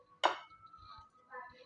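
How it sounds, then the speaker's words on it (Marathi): A utensil clinks sharply once against a bowl while spices and semolina are mixed, followed by fainter scraping and tapping at close range. "मी हे सर्व एका भांड्यामध्ये मसाले सगळे मिक्स करून घेणार आहे"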